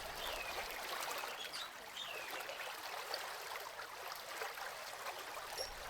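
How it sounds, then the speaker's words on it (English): Riverside water trickles and burbles over rocks and pebbles in a small clearing, a steady moderate babble with faint bird calls in the background and no talking. "The water flows over rocks and pebbles."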